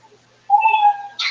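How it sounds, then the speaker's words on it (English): A cat gives one loud, close, drawn-out meow with a rising tonal wail, followed by a brief breathy sound at the end. "Wow, that cat is loud on that one."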